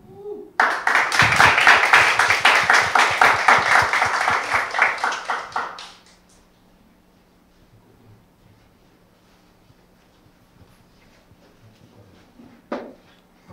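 Audience applause at a Korea University startup award ceremony, a dense burst of clapping that swells quickly, holds for about five seconds, then stops, leaving a quiet room with a faint knock near the end.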